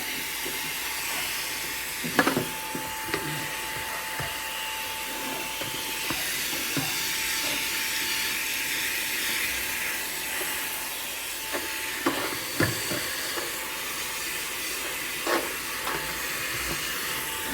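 A Xiaomi Mi Vacuum Cleaner Mini handheld vacuum cleaning dust off a desk indoors, a continuous close whooshing hiss with a faint steady motor whine and occasional light knocks as it moves, no talking.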